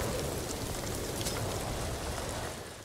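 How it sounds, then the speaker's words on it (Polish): Steady rain in the Ghost of Tsushima game, a continuous close hiss of falling drops on surfaces at night, even in level and easing slightly at the end, with no voices. "Znowu ciemno, znowu deszcz."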